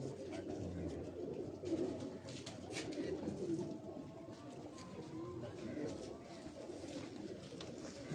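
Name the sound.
Bengali breed pigeons cooing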